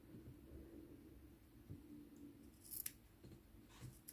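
Scissors snip off excess crochet thread while making a small crocheted doily or coaster: faint, close, crisp cuts, a couple of quick snips near the end over quiet room hiss.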